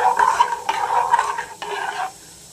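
A spoon stirs kharvas (colostrum pudding) in a cooking pot, giving repeated scraping swirls with a soft sizzle, close and fairly steady, then stopping abruptly near the end.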